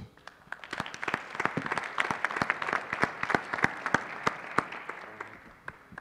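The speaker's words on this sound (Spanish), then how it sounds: "un aplauso." An audience claps together at a small community networking event, a steady, dense patter of many hands with sharp individual claps standing out, sustained for several seconds and gradually thinning toward the end.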